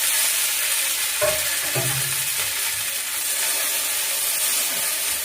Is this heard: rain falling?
no